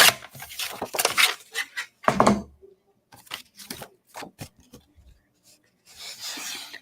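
Paper for a mini album is trimmed in a series of close, crisp rasping and slicing bursts, some quick and clustered, separated by short pauses and ending in a longer steady scrape.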